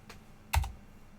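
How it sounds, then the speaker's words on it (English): Brief keystrokes on a mechanical keyboard, a faint light tap followed by one sharper, louder clack, close and alone against quiet background. "this is where it gets noisy, because stupid mechanical keyboards"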